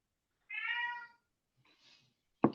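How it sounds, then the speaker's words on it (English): A cat gives one fairly clear meow in the background, faint and distant, followed by a softer sound and a short sharp knock, in a quiet room. "Is there a cat back there that I heard?"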